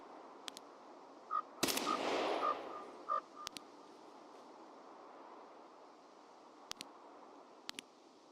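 Gunfire in the video game Escape From Tarkov: a few sharp shots ring out at a distance, one louder burst near the start followed by scattered single cracks over a steady background hum.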